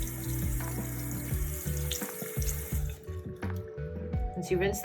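Running tap water splashes steadily into a sink as makeup brushes are rinsed back and forth, with irregular bursts of flow and a voice talking over the water.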